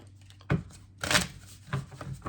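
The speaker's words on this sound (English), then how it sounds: "So I have to shuffle." A deck of cards for the Star Wars Unlimited trading card game is shuffled up close, with three short riffling bursts split by brief pauses and a low hum underneath.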